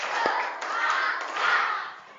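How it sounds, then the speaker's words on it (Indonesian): A class of students does a rhythmic clapping icebreaker, chanting loudly together in unison with a few sharp group claps marking the beat, close and muffled. "Tepuk 1. Tepuk 2. Tepuk 3."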